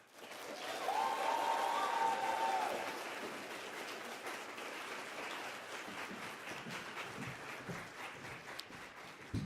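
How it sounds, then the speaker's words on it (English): A campus life award ceremony audience applauds an award winner, a soft, steady patter of distant clapping that swells early and then settles into a lighter, even wash. "Please give a round of applause for Kara"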